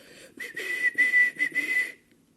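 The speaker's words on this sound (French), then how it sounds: "Aussitôt, un bourdon chargé de la circulation arrive en sifflant." A whistled sound effect standing in for an arriving bumblebee: a bright, wavering whistle in several short bursts over about a second and a half, close and clear, with near silence after.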